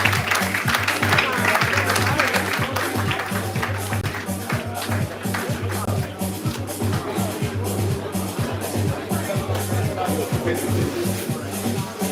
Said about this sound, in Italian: facciamo un applauso ai pugili.